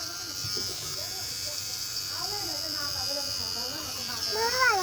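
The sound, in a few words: electric clippers cutting a girl's hair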